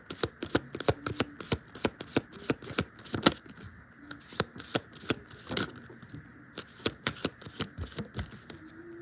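Playing cards riffled and shuffled again and again, a quick series of sharp, close slapping bursts in an uneven rhythm.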